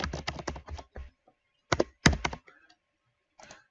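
Typing on a computer keyboard, quick clusters of close, crisp keystrokes broken by short pauses and a few final taps, with no talking.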